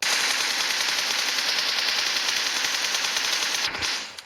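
Sustained rapid automatic gunfire from the PUBG Mobile game, loud and close, a dense unbroken burst of shots that stops abruptly near the end.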